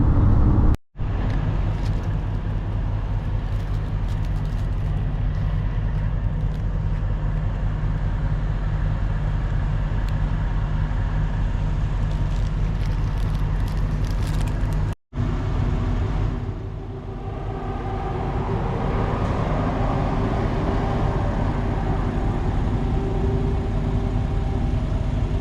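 A vehicle drives on a highway at night near Texas, giving a steady, loud road and engine drone that holds throughout with only two brief dropouts, and no voices.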